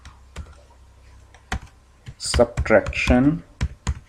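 Python code being typed on a computer keyboard, with a few sharp, separate key clicks scattered across the moment while someone speaks in Hindi over them.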